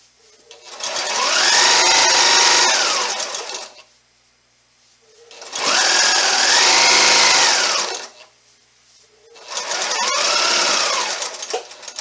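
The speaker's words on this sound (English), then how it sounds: "you're going to turn your project at a diagonal like I did and sew off the end" A sewing machine stitches binding onto a quilt project in three sustained runs of steady mechanical whirring, separated by short pauses while the fabric is repositioned.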